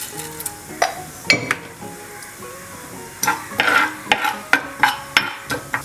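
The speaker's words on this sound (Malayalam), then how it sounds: "ഇതിലേക്ക് ഞാൻ 1 ടീസ്പൂൺ അളവിൽ ഉലുവ ഇട്ട് കൊടുക്കുകയാണ്." Fenugreek seeds hit hot oil in a heated pan while cooking Kettu Vallam fish curry, giving light sizzling broken by sharp clinks and scrapes of a spoon against the pan.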